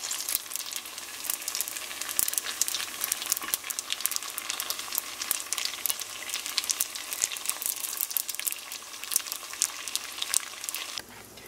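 Apple wontons frying in hot oil over lowered heat, a dense continuous crackling sizzle that stays even and fairly loud throughout with no voices, cutting out just before the end.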